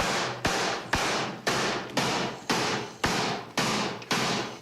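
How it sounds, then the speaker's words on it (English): Rubber mallet hammering in a renovation setting, nine steady, evenly spaced dull thuds, loud and close with no talk. "What are we using, a rubber mallet?"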